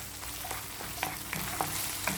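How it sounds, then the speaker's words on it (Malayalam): Onion and tomato paste sauté in a pan for spicy cheesy macaroni, giving a steady close sizzle with a few soft stirring scrapes and clicks, no voices. "ഇനി നമുക്കിതിലേക്കൊരു 1/3 കപ്പ് ടൊമാറ്റോ പേസ്റ്റ് ഇട്ട് കൊടുക്കുക."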